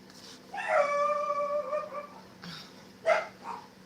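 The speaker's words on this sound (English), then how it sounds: "gotta go see what the dogs are barking at." Several dogs bark, yip and whine at home, most likely at a delivery truck. A long, loud, whining howl comes first, and a few sharp barks follow a moment later. Nobody speaks.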